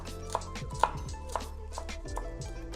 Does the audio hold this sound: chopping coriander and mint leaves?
yes